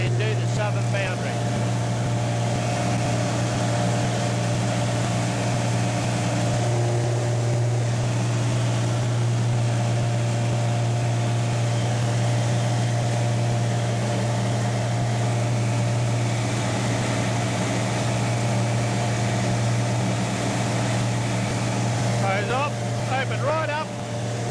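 An agricultural top-dressing aircraft flies overhead, its engine a steady, loud, droning hum that holds throughout the run.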